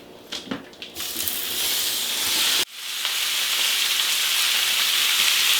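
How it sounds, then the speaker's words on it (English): Thinly sliced sirloin and ribeye steak hits a very hot cast iron pan. A few faint clinks give way to a loud, hissing sear that cuts out briefly, then roars back steadily. "sliced steak into my very hot pan. I'm using my cast iron pan"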